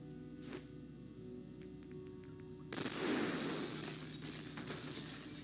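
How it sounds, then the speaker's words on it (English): A single shotgun blast in the video game Vigor, one sudden loud boom followed by a fading rumble over a steady background hum. "That sounded like the shotgun."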